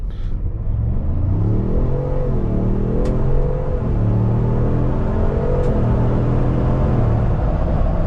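A 2-door Ford Bronco with a 10-speed transmission pulls away hard at full throttle, its engine note climbing and dropping through several upshifts in a steady, loud drone with no talking.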